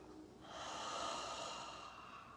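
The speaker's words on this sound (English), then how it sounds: "Exhale through your mouth with your tongue still touching the back of your teeth gently." A slow, steady breath pushed out through the mouth with the tongue resting against the back of the teeth, a soft airy rush swelling and holding for about two seconds, close and quiet.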